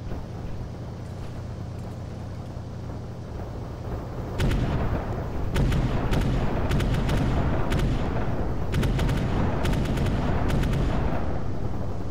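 Cannon fire in an Arma 3 Warhammer 40K battle: a steady low rumble gives way to repeated sharp heavy blasts from about four seconds on, loud and sustained with overlapping booms.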